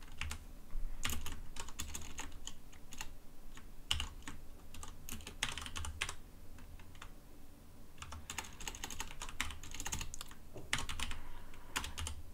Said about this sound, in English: I'm hitting all the wrong keys.